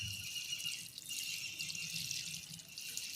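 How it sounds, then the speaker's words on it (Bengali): Water poured onto freshly potted giant chrysanthemum plants, a faint, steady trickle and splash heard alone at low level. "আমি জল দিয়ে দেবো প্রতিটি গাছ।"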